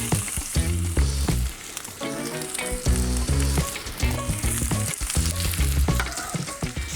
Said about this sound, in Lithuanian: Pilu 4-5 šaukštus tyro alyvuogių aliejaus ir į keptuvę keliauja svogūnai